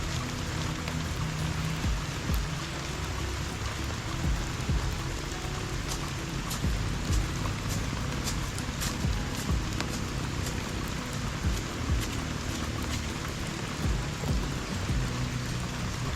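Steady rain falls throughout in a rural yard during cleaning and planting in the rainy season, a dense, even hiss of drops on surfaces with occasional soft knocks and no speech.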